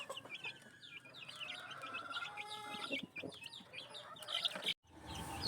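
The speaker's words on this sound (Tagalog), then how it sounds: "Nakakatuwa ang mga sisiw. Nasisigla." Chicks peep in rapid, high chirps while a mother hen clucks softly nearby, a busy, continuous chatter of small birds close by.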